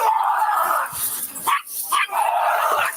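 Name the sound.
dog barking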